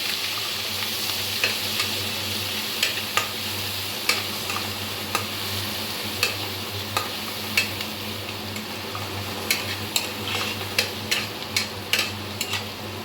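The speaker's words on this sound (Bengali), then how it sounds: "এবার মশলাটাকে খুব ভালোভাবে ভেজে নেব" Cumin, coriander and green chili paste sizzles steadily in a pan, with a run of sharp ticks and clicks from stirring scattered throughout, and no voices.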